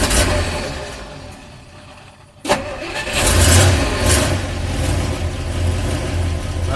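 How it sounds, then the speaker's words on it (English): A 1958 Studebaker Commander engine cranks briefly, catches with a sharp start, then settles into a steady, loud idle close by. "So we'll see how well it starts when it gets used more often than not."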